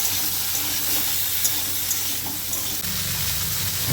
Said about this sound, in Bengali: ফুলকপি ভাজছি